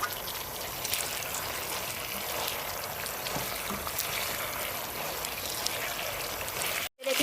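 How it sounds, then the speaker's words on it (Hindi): Fried chicken wings being tossed and coated in a Korean sticky sauce in a pan, giving a steady close sizzle with light wet stirring, briefly cut to silence near the end. "अब इसके अंदर मैं फ्राई विंग्स डाल के इसको अच्छी तरह कोट कर लेते हैं।"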